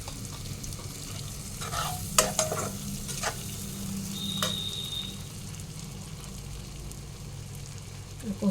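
Ghee sizzles in a pan while a soyabean muitha dish fries, a steady low crackle with a few sharp stirring scrapes and clinks over it, close and moderately loud, with no talking.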